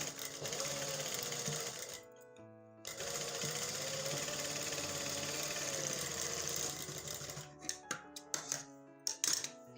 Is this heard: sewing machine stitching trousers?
yes